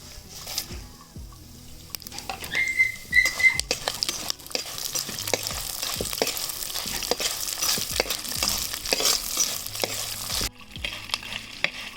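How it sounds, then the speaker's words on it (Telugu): Dried and green chilies with coriander seeds frying in hot oil, a steady sizzle with repeated scraping and clinks of a stirring spoon against the pan, close and continuous with no speech. "పచ్చివాసన పోయేంత వరకు బాగా నూనెలోనైతే బాగా వేయాలి చూడండి"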